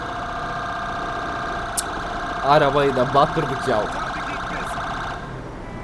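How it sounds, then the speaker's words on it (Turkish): An ambulance arriving in GTA 5 holds a steady electronic siren tone over a rumbling engine, while people talk over it midway. "Ay ambulans geldi."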